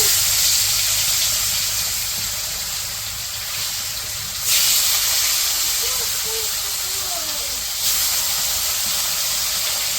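Fish sizzling in hot oil in a wok in a village kitchen, a steady loud hiss with a couple of brief surges, faint voices and low background hum beneath.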